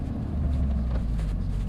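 Renault Megane 3 RS driving: a steady, loud, low engine and road rumble from inside the car, continuous throughout with no talk.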